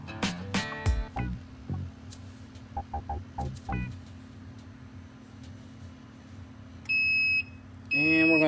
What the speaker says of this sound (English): we're going to back off after the 10th beep.